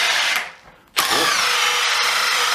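A Makita DTP141Z cordless 4-mode impact driver drives a bit through wood with a loud whine that dips and slows briefly, then surges back and holds a steady high drone up close.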